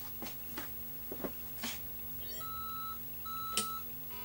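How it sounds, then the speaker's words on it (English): An Atari Crystal Castles arcade board on a repair bench emits faint high electronic beeps alongside a steady hum and scattered clicks, with two clear high tones standing out, all quiet and up close. "Just 2 high tone beeps."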